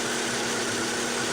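A car engine idles steadily during a spark plug test, giving a close, even mechanical drone throughout with no talking over it.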